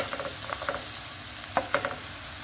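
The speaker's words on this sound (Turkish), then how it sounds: "Biraz da soğan sarımsak kavrulsun." Onion and garlic fry in a pan, a steady sizzle carrying light, rhythmic scrapes and taps of a stirring utensil, with a couple of louder knocks.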